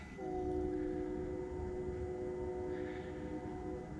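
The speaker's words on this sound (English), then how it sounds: "Hear a train down there." A train rumbles below a canyon drop-off in Colorado National Monument at a distance with a steady low drone and a sustained horn tone, fairly faint and continuous.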